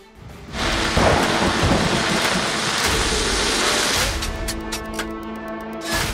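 Heavy rain pours steadily during a storm in Karachi, a dense continuous roar of downpour with rumbling thunder, loud and close, with no voices.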